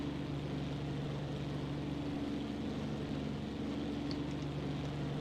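Steady droning hum of an overheating A6M5 Zero fighter engine in the video game IL-2 Sturmovik, constant low tone and broadband rumble, unbroken and fairly loud throughout, no voices.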